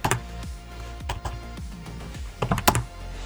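Keys clacking on a computer keyboard in short irregular bursts, close and fairly loud, while AWS credentials are entered at a command line; no talking.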